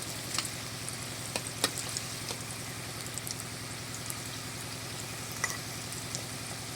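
Potato rolls deep-frying in oil over low heat and being turned on all sides, a steady soft bubbling sizzle with a few faint clicks and taps, no talk.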